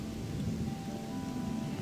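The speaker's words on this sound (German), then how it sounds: "Yay, es regnet." Steady rain falls in the video game Gothic II, a constant, even wash of noise that holds at the same level with no break and no voices.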